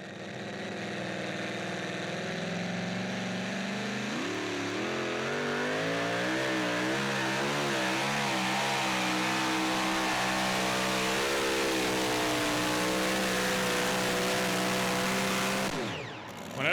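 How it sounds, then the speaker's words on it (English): A super modified two-wheel-drive pulling truck revs its engine hard, a loud continuous roar climbing and wavering in pitch for over fifteen seconds before cutting off abruptly. "This is Grayson Shelton in the Cope lumber truck."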